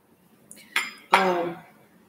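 Spoons and a fork knock and clink against one another as they are handled in a home kitchen, two short bright clatters close by, with no talking.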